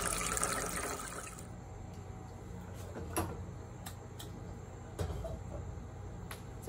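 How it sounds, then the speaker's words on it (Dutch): Water runs from a tap into a container at home, a brief rushing pour for just over a second that then cuts off, followed by a few faint clicks and knocks. "Let's fill this water up."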